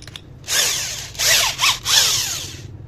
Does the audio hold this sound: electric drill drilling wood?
yes